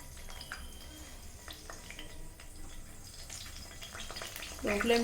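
Ingredients for a Telugu-style fish curry fry gently in a pan, a soft steady sizzle with faint stirring scrapes, growing louder toward the end.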